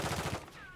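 Gunfire in Call of Duty Modern Warfare 3, a short rapid burst of shots at moderate level that cuts off partway through, followed by a faint tone.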